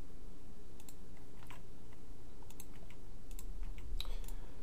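Keyboard and mouse cutting and pasting code, light scattered taps and clicks over a steady hum of background noise, fairly quiet, with a few crisper keystrokes near the end.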